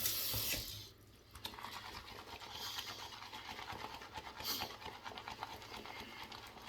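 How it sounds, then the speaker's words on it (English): A brush works glycerin-based shaving cream in a small collapsible bowl, giving a quiet, continuous wet swishing and whipping that runs steadily after a brief louder burst at the start. "I'm going to go to my bowl, a little collapsible bowl here, and start building my lather"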